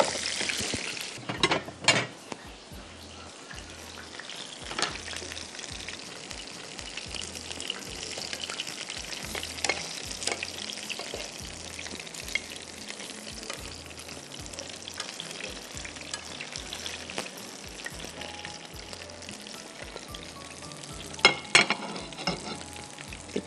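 Masala of ground raw onion for Dhaka-style chicken roast sizzles in oil in a pan while a spoon stirs it, a steady close frying hiss broken by repeated scraping and clinking strokes, with no talk.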